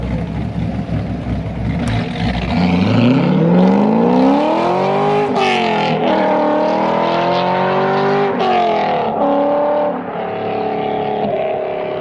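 A C5 Corvette Z06 with an LS V8 engine roars loudly and steadily, revving up and holding a deep, rumbling tone with pitch swells for the full twelve seconds, with no talking.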